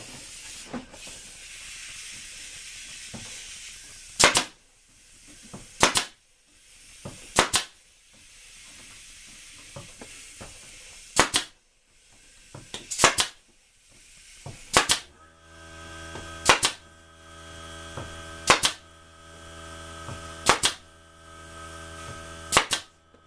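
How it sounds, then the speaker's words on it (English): A staple gun fires into the top bars of wooden hive frames, producing about a dozen sharp single snaps spaced roughly every one to two seconds over a faint background hiss. "I glue and staple."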